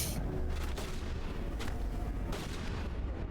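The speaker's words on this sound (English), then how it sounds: "Oh, you're trying to shoot the enemy?" Gunfire in the Mass Effect 1 video game, with sharp shots and bursts cracking out at irregular intervals over a steady, dense background of battle noise.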